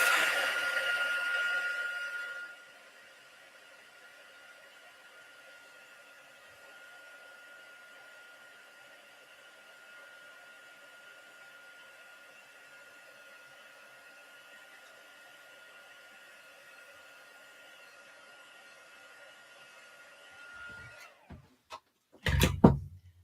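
A hair dryer blows a steady, close airy roar that is loud at first, then settles lower and continues evenly before cutting off, followed by a few knocks and rustles.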